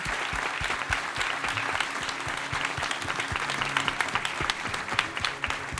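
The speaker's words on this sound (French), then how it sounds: "on peut faire un tonnerre d'applaudissements pour Monsieur Paul Verhoeven" Applause from an audience at a masterclass honoring film director Paul Verhoeven, dense sustained clapping with distinct sharp claps throughout, little talk.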